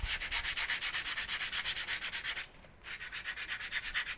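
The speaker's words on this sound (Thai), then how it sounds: "มาลดรอยมาขัดให้ทางน้ำมันตรง นะครับเพื่อเพิ่มความเรียบเนียน" Hand sanding of wood with coarse 60-grit sandpaper, shaping a small boat stern piece; steady rapid back-and-forth rasping strokes, close and loud, with a brief pause midway before the rhythmic scraping resumes.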